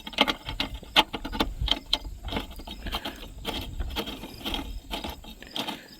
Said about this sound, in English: So let's just throw a bolt in there and see how it goes.